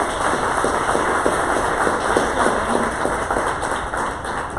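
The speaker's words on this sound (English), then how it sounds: "Give her a round of applause" An audience applauding the women's basketball coach at a live event, with dense, steady clapping from a crowd, loud and continuous throughout.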